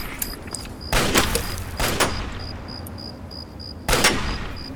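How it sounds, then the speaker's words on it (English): An explosion in the video game Fallout 3 sets off a loud burst of booms and blasts, followed by a second heavy bang near the end, with repeated short electronic beeps running underneath. "I'm just waiting for the explosion."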